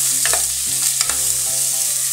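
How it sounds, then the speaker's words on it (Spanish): Sliced onion and scallion sautéing in a pan, a steady bright sizzle with the clatter and scrape of a utensil stirring in a loose rhythm throughout. "Vamos a sofreír la cebolla."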